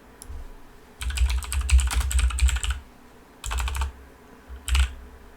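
Fingers type on a computer keyboard nearby in three separate bursts of rapid, crisp key clicks, with short quiet pauses between them.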